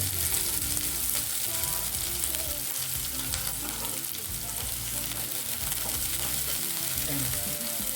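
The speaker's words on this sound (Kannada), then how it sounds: "ಬೆಳ್ಳುಳ್ಳಿ ಹಾಕಿದ್ದೀನಿ, ಈರುಳ್ಳಿ ಹಾಕಿದ್ದೀನಿ, ಸ್ವಲ್ಪ ಫ್ರೈ" Garlic and onion sizzle and crackle in hot oil for North Karnataka horse gram palya, a continuous close frying hiss with occasional stirring scrapes.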